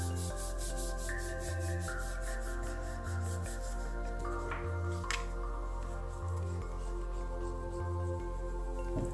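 Steady rubbing as a folded paper card is burnished flat, the soft scraping strokes running continuously under background music with a regular low beat.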